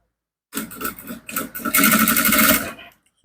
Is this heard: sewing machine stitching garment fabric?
yes